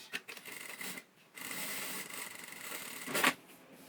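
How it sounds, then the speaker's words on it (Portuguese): Sewing machine running a line of stitching across the top of a zippered cosmetic pouch, a steady mechanical whir that stops briefly and then resumes, close up, with no talking. "E agora eu vou passar uma costura onde eu fiz o risco na parte de cima."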